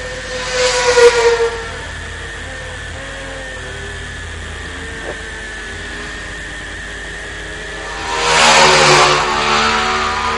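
Aprilia race motorcycles in a Formula 3 road race scream past, a brief high-revving pass early, then a distant engine drone, before another bike roars by loudly near the end.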